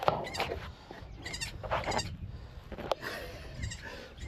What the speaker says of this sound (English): Look, new little baby goats.